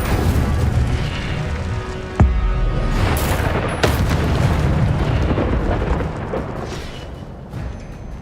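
The Incendio fire spell is cast in Hogwarts Legacy, producing a couple of sharp fiery bursts over a steady rumbling game background.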